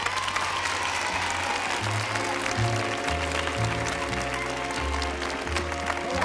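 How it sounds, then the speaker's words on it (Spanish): Studio audience applause for a magician on a 1982 New Year's Eve television game show, a sustained crowd clapping heard under a steady low music bed, moderately loud and continuous. "Un fuerte aplauso para él."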